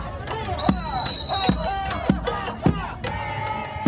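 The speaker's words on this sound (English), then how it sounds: "So you hear the drums that are being played." Hand drum beaten by a man at a No Kings protest rally, sharp thumps roughly every second or so amid a noisy crowd with chanting voices and babble.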